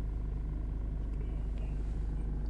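A Toyota Innova engine runs at a steady, low idle right after starting, with a close, even rumble and regular pulsing throughout.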